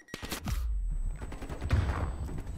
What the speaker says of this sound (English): QPD Pookie guns him.